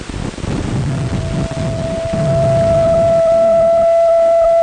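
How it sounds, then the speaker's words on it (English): Heavy breathy rumble of air blown straight into a microphone, loud and steady, with a thin whistling tone rising over it toward the end. "The louder I blow, the taller the lines get."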